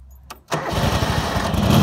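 An old tractor lawnmower engine turns over and catches within moments, then runs loud and close at a rough, steady chug.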